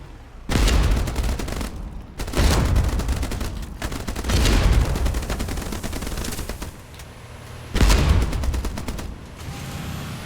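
Automatic gunfire from boat combat in the video game Age of Water, arriving in four loud, sustained bursts separated by brief gaps, with heavy rattling shots and booming low impacts.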